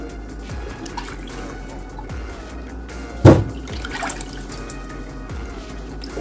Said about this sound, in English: we'll wash this one by one and transfer this to the sieve to sieve out some of the water